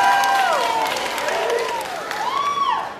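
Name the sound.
audience clapping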